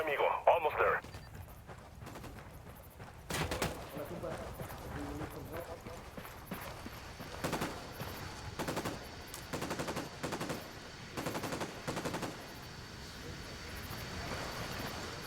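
Bursts of automatic gunfire in Ghost Recon Wildlands, spaced sharp volleys recurring across the stretch amid game ambience, with voices talking over parts of it.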